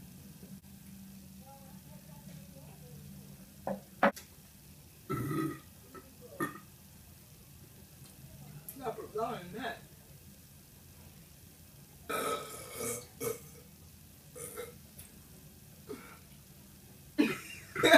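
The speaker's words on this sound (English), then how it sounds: "Longest burp." Burps after drinking Pepsi, several throaty bursts spread over the span, some long and drawn out, with coughs, throat clearing and voices between them.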